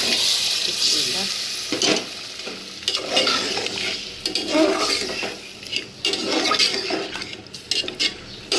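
Meat goes into a pot of spices frying in oil, giving a steady loud sizzle with stirring scrapes and occasional clinks of a utensil against the pot, all close by.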